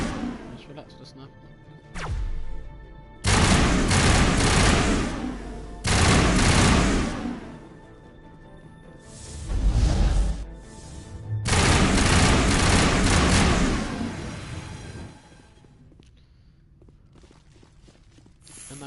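Heavy gunfire from a sniper rifle in the video game Mass Effect 1 comes in several loud bursts with crashing impacts between quieter gaps, while a voice talks over parts of it.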